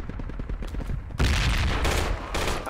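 Dense gunfire from Project Reality, rapid overlapping shots that swell into a loud, sustained barrage after the first second, close and continuous with no talking.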